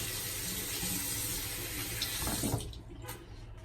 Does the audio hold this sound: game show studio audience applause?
no